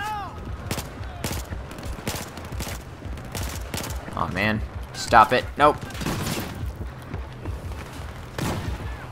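Gunfire and explosions from the Battlefield 4 campaign on PS4, with sharp repeated shots and booms, a few sudden louder bursts near the middle, and short spoken reactions over the action.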